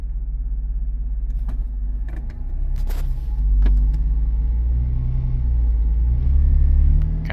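Chrysler Grand Voyager minivan with a fuel leak, idling after start-up outdoors in snow, a loud steady low engine rumble that swells slightly in revs, with a few faint clicks and knocks.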